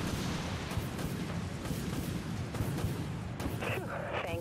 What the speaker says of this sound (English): Torpedo launched.